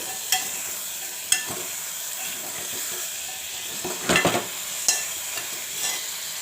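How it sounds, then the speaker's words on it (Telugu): Bitter gourd pieces fry in oil in a pan, giving a steady soft sizzle with several sharp clinks and scrapes as a spoon stirs them, close and without speech. "ఇప్పుడు ఈ కాకరకాయ ముక్కల్ని కూడా వేసేసుకోవాలి ఇప్పుడు వేసేసుకొని ఒకసారి మంచిగా కలిపేసుకోవాలి"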